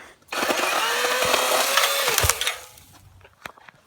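A pine tree being trimmed, a loud close burst of splintering and cracking wood lasting a couple of seconds, then snapping branches and scattered thuds as it settles.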